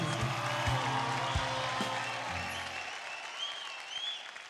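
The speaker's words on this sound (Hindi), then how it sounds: "जोरदार तालियां हो जाए" A studio audience on a televised Indian dance competition show claps loudly and steadily after a mime-style performance, then the applause thins out and fades away.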